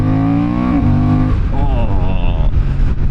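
A Honda CB750 Hornet motorcycle with its standard exhaust, loud and close, revving with a rising then falling engine tone and harmonic growl, with a voice briefly audible.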